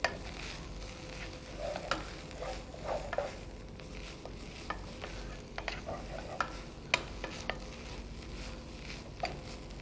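Grated bottle gourd sautéing in a pan for halwa, a faint soft sizzle under repeated light ticks and scrapes of a stirring spoon, fairly quiet and close.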